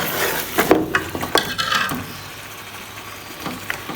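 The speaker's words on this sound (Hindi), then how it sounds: "ये देखिए हम भून रहे हैं।" Meat for matka nihari frying and being stirred in oil, with a steady sizzle and uneven scraping strokes that are louder early on, then a softer sizzle continuing beneath. Close and alone, with no talk.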